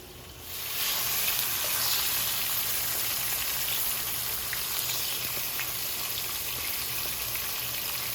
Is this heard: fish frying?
yes